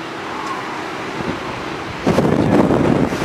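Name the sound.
wind on a ship deck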